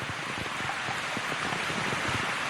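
Steady rain during a Japanese rainy season, a dense, even hiss with soft low patters running continuously and no voices.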